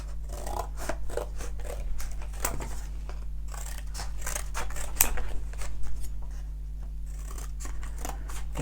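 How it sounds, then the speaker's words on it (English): Scissors snip through cardboard to cut out chunky decorative craft letters, a close, steady run of crisp cuts with short pauses between strokes and no talking. "Then you just need to cut out your letters."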